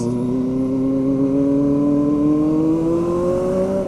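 Cars sit in slow, jammed traffic on a road as light drizzle begins, with a continuous engine drone whose pitch rises gradually as a vehicle accelerates close by, steady and loud with no talking.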